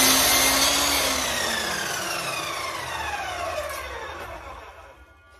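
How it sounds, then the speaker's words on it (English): Radial arm miter saw making a quick test cut through wood, a loud close whine that slowly winds down in pitch over several seconds, with no talk. "we're just going to make a quick test cut here to make sure we're all nice and square"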